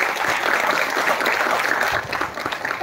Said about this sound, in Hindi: तो एक बार आप सबके लिए जोरदार तालियां